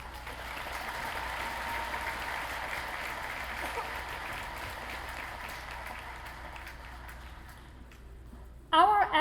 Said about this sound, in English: Let's give the Groves Concert Choir another round of applause.